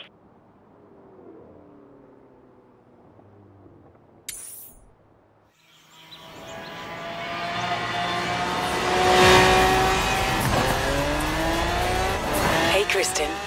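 Racing cars in the Forza Horizon 3 video game, engines revving and accelerating with tire squeal building from quiet to loud after a brief silence, with engine tones rising and sweeping throughout.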